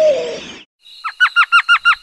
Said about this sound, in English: Elf owl.